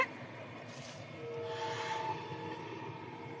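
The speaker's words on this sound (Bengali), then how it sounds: "দেখো ট্রেন যাচ্ছে" A train rumbles past at a distance, a steady roar with a faint horn-like tone rising partway through.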